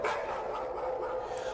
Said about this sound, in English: that dog is barking a whole lot